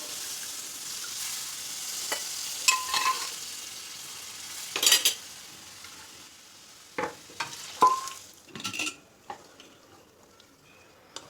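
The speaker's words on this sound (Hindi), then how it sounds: "मिक्स कर लेंगे अच्छे से" A spoon scrapes and stirs pea curry in a frying pan with irregular strokes over a soft, steady sizzle, close up and with no talking.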